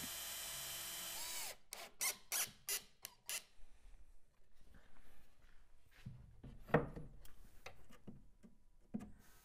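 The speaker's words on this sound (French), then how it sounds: "Vous les percez au préalable afin d'éviter les fissures." A power drill pre-drills wooden slats for a kitchenette: a loud steady whine at the start, then several short bursts of drilling, followed by quieter knocks and handling sounds.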